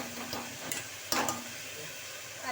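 A spoon stirs tomato curry with salt in a pan, making soft scraping strokes over a gentle sizzle, with one sharper clatter midway.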